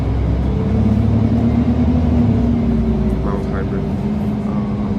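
A Mercedes-Benz Citaro C2 NGT city bus with a natural gas mild-hybrid engine and 4-speed Voith gearbox runs in Ljubljana, a steady low rumbling drone holding constant and close, with faint higher whines over it.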